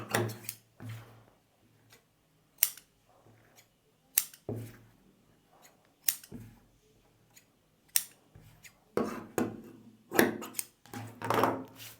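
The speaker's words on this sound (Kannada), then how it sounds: "ಈ ಬ್ಲೌಸ್ನ ನಾವು ಫೈನಲ್ಲಾಗಿ ಈಗ ಕಟ್ ಮಾಡಬೇಕು" Scissors snip through blouse fabric in a series of close, crisp cuts, some in quick runs and others spaced apart, with quiet pauses between them and no talking.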